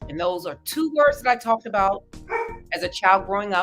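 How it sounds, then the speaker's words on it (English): A pet dog barks in the background of an indoor room while someone speaks steadily over it; the barks sit under and between his words. "And that's my dog barking."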